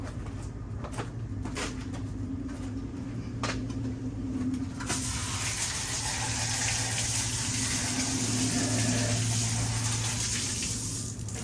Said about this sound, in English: I'm going to squirt it with the hose